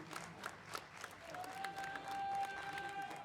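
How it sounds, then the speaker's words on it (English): An arena crowd at a BLAST Bounty Malta Counter-Strike esports match applauds and cheers in a continuous, fairly distant roar, with a few sustained tones rising over the noise. "And the crowd goes wild."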